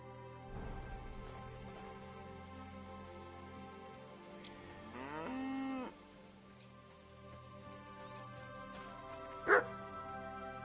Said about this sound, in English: Barking. He's coming from over there.